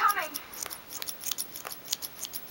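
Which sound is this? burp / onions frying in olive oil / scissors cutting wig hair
scissors cutting wig hair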